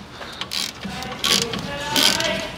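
A ratchet with a 15 mm socket works a bolt on the front brake caliper of a Mercedes-Benz GLK350, giving a few short bursts of close mechanical clicking separated by brief pauses.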